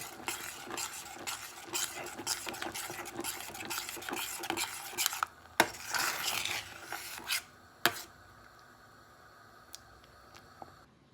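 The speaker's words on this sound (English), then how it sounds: "and then you stir." A spoon stirs oatmeal porridge with sugar and milk in a pot, giving repeated close scraping and clinking strokes that get sharper and sparser toward the end, with no voices.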